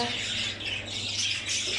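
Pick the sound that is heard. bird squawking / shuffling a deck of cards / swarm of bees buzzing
bird squawking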